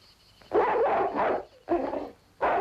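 A dog barks in a film soundtrack: three loud, rough barks spaced out over a few seconds, close and clear, with short quiet gaps between them.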